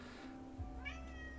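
A cat meows, a single faint rising meow over a steady low hum of room noise.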